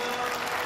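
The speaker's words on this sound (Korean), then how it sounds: "회원들은 축하와 격려의 박수를 보냈습니다" Steady applause from church members at a Baptist general assembly, dense clapping continuing throughout without pause.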